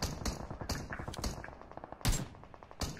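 Rapid gunfire in a video game, a series of loud, close shots in quick irregular bursts, with a heavier blast near the end.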